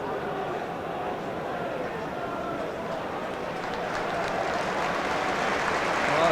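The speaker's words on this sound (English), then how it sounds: "it's very sporting applause for the United player all around the stadium" Sporting applause sweeps around a football stadium for an injured Dundee United player at a 1997 Scottish Premier Division match against Heart of Midlothian, a steady broad crowd wash that swells slightly toward the end.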